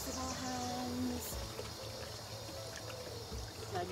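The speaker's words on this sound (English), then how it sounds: "Okay, we better turn on the tap." Water runs from a tap during hand-washing in a steady, gentle trickle and splash that continues throughout at a fairly quiet level.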